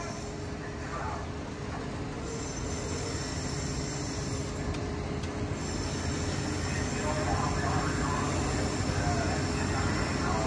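Amtrak Capitol Corridor train 527 rolls past at Oakland, a steady broad rumble of wheels and cars lasting throughout, close and loud with faint high rail squeal above.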